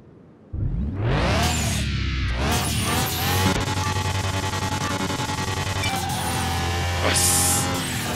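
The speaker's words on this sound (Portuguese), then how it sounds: "O ronco desse carro" A Nissan Skyline GT-R R34's engine roars into life after a brief quiet moment, then rises and falls in pitch as the revs climb through the gears, loud and close, with some faint talk.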